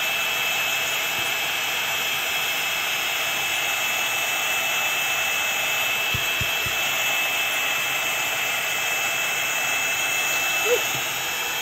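An embossing heat tool blows with a steady, loud, unbroken whoosh close by, a constant airy roar running the whole time with faint handling noises underneath.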